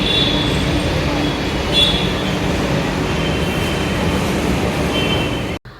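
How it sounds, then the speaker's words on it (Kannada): A metro train pulls into a station at Whitefield, Bangalore, a loud steady rumble and rolling hiss filling the whole clip before cutting off abruptly. "ಮೆಟ್ರೋ ಬಂತು."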